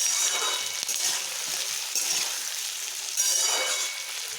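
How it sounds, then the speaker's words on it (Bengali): Washed potatoes frying in hot oil for a spicy chicken kosha curry, giving a steady, close sizzle with crackling bursts that swell slightly near the start and end. "এবারে ওই আলুগুলো দিয়ে পরে এটা আমি ভাজবো"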